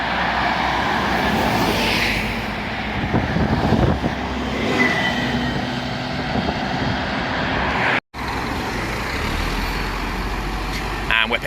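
A bus pulls in along a street in Cirencester, its engine rumbling steadily and close with broad road noise, and a brief cut near the end.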